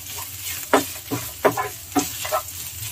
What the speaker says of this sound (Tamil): தேங்காய் நல்லா இதை எண்ணெயில் வதங்கணும், அந்த அளவுக்கு நம்ம ரோஸ்ட் பண்ணி எடுத்துட்டு போகிறோம்